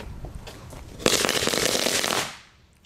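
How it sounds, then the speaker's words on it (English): Backyard fireworks on a July evening go off in a dense rapid crackle of popping bursts, loud and sustained for over a second before fading out, with faint background noise before it. "Alright guys, we're having a firework war."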